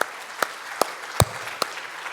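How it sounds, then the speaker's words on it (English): A few sharp handclaps ring out, evenly spaced and alone, at an inauguration session for a medical conference on RIRS versus mini-PCNL, greeting Professor Oliver Traxler. "Big applause to Professor Oliver Traxler, sir."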